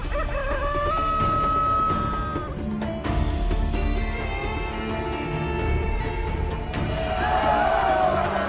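Chickens and a rooster crowing in a chicken racing video game, a steady layer of clucks and calls with drawn-out crows rising over busy game sounds and music throughout.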